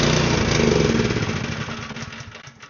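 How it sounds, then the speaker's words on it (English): A small snowblower engine runs on choke after carburetor work, chugging loudly and unevenly up close, then fading as it sputters down. "It doesn't run regularly, it only runs on choke, so it's not getting enough fuel."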